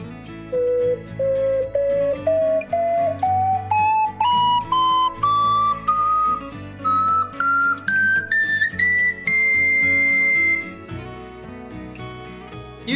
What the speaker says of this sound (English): So now, the full range of a double ocarina sounds like this.